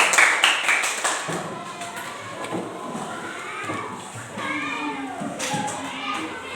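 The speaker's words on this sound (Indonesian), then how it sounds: "Oke, tepuk tangan untuk kelas 5." Fifth-grade schoolchildren clap in a classroom, a brief burst of quick, uneven claps at the start that fades into children's chatter and an adult voice talking over the room.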